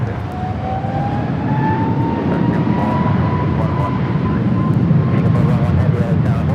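An airliner taking off at Los Angeles International Airport, a loud sustained engine roar with a slowly rising whine, heard from nearby alongside air traffic radio talk.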